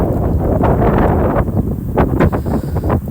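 Strong gusts buffet the microphone while a DJI Mini 3 Pro drone flies outdoors, producing loud, uneven low rumbling and bursts of wind noise that swell and fade.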